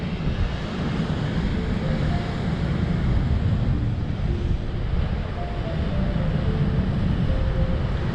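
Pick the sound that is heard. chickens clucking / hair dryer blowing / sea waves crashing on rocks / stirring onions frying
sea waves crashing on rocks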